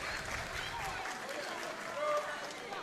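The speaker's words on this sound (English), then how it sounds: "the crowd is definitely once again getting behind Maddie here" A pro wrestling crowd cheers and claps for a women's match, a steady wash of distant cheering and applause rising briefly near the end, with a commentator talking over it.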